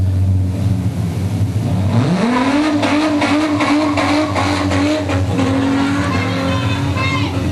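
Street stock race cars circle a track, engines roaring loudly and rising in pitch as they accelerate past, with a commentator's voice heard over the steady engine noise.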